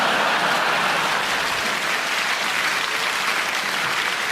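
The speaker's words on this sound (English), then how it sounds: "I do love I get a round of applause always" Steady audience applause at a live stand-up comedy show in London, a dense wash of clapping filling the room evenly throughout without pause.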